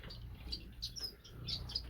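Small finches in a mixed aviary give thin, high chirps in short scattered bursts, faint and fairly close, over a low background hum.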